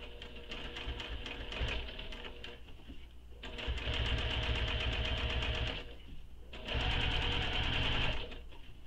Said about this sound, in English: And now we're going to top stitch this panel